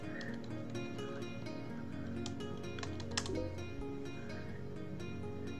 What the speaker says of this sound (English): Why are you typing all this out?